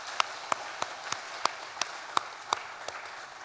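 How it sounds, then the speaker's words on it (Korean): A church congregation at a youth-group worship service claps in a steady, evenly spaced rhythm of sharp claps, about three per second, over a soft wash of room noise. "박수 한번 더 치도록 할까요?"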